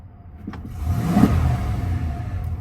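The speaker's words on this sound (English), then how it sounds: "Let's give it a little rev." The engine of an all-original OBS-generation Ford F-150 pickup revs once, rising from idle to a broad swell and then settling back down, close and with no talk.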